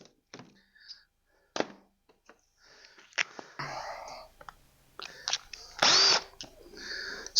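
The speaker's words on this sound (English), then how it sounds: "Step bit, Christmas tree bit, unibit, whatever you'd like to call it. I call it awesome. Right there, it just knocked the burr right off." A drill fitted with a step bit deburring a hole, heard as several short whirring bursts separated by pauses and light thunks, the longest and loudest burst coming near the end.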